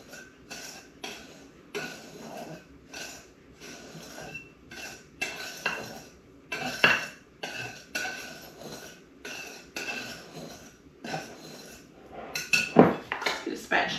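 Friendship tea mix is stirred together in a bowl, with repeated close scraping and clinking strokes of a utensil in a fairly regular rhythm and a brief cough near the end.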